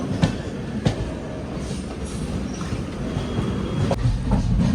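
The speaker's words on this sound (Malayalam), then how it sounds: "Hisar Coimbatore super fast express ആണ് തോന്നുന്നത്." A Hisar–Coimbatore superfast express rolls past loudly and continuously, its steady rumble broken by sharp clicks of wheels over rail joints and faint squeals.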